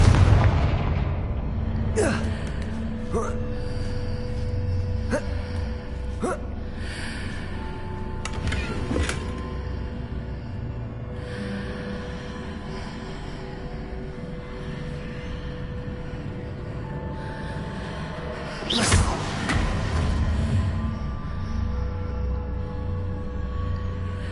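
Confringo fire spell explosions in Hogwarts Legacy, several sharp bursts and booms scattered over a busy game soundscape with music, one especially loud blast near the end.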